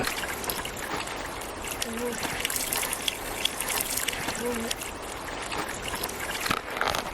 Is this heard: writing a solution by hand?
no